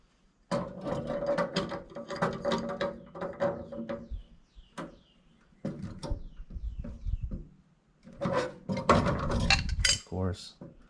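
A ratchet clicks in repeated bursts while tightening the fitting on a Trane AC evaporator coil, mixed with metallic clinks and scraping. Pauses separate the sections of close, loud mechanical ratcheting.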